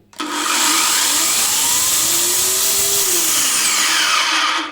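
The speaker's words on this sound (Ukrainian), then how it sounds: "Глянемо, як працює пила" A GTM electric chainsaw spins up quickly and runs with a loud, steady high-pitched whine close by, with a slight pitch rise and fall in the middle before it cuts off.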